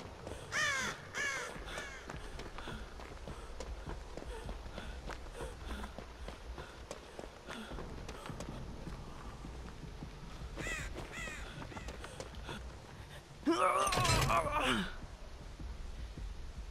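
Ravens caw in a Halloween round of the Dead by Daylight video game, with several harsh croaking bursts early on and a louder, denser flurry of calls near the end over a steady game ambience.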